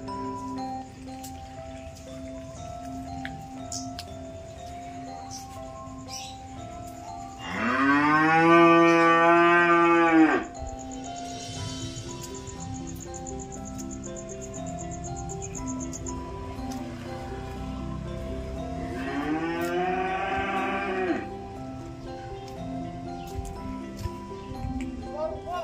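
Cattle in the Tempurejo village countryside of Blora, Indonesia, on an evening: two separate drawn-out moos about ten seconds apart, the first louder, over a quiet rural background.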